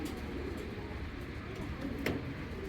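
Giribaz pigeon cooing, young hen pigeon among the flock, soft low coos under steady background noise with a brief sharper sound near the end.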